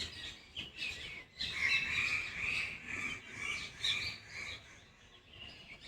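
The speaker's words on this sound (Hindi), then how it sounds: "इन चिड़ियों की आवाज़ सुनने पर" Busy, overlapping bird chirps and tweets fill the air continuously, fairly close, with a dense chorus of small birds calling without pause.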